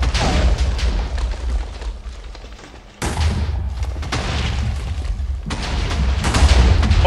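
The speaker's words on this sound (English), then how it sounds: "as soon as I got out there where Tri was, fucking TNT started flying in my direction" Chaotic TNT blasts in a video game tower demolition: repeated loud, close booms and crackling detonations pile up for the whole stretch, with a brief drop before the barrage swells again. No one speaks over the blasts.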